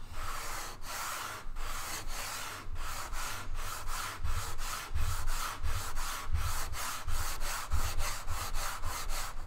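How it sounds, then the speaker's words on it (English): Steady rhythmic rasping of sandpaper scrubbing back and forth on a dense wooden guitar fingerboard while radiusing it, strokes repeating close up at a brisk even pace with no talking. "Yeah, it's sanding a lot better now."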